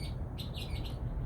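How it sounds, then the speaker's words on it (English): Morning birds chirp in a garden, several bright tweets in quick succession over a steady low outdoor rumble. "Birds are up and happy."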